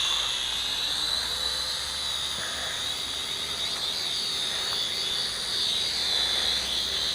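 Tiny SYMA toy drone motors whine at full throttle, a steady high-pitched electric buzz close by that holds level throughout with slight wavering in pitch.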